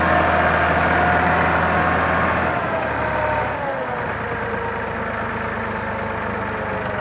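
A Massey Ferguson 360 tractor engine idles steadily up close on a farm field, a low continuous rumble that drops slightly in pitch partway through and then holds even to the end, with no talk.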